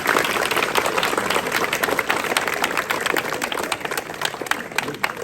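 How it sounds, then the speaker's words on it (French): Collège students at a school flag ceremony break into loud, sustained applause, a crowd of many clapping hands close by, with a faint murmur of voices underneath. "vous devez vous applaudir en tant que collégiens et collégiennes"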